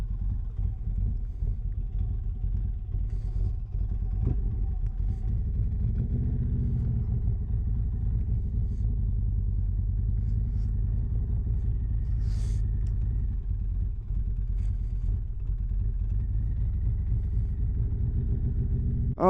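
A custom Harley-Davidson Road Glide rumbles steadily with a deep, loud low-end throb that stays at an even level throughout, consistent with riding along, and no talking.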